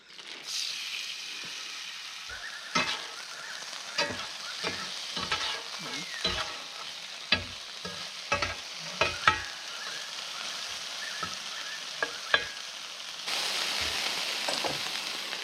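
Chicken and vegetables fry in a very hot pan at a riverside campsite, a steady loud sizzle broken by frequent sharp clacks and scrapes of stirring, with a burst of stronger hissing near the end.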